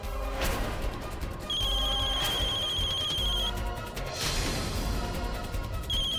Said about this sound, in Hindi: मिथिलेश भाई का फोन